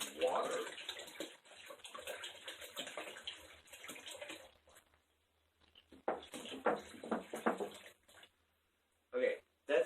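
Water pours in a steady rushing stream onto fruit in a homebrew mango wine fermenter, stopping and restarting in bursts, with a person speaking over it.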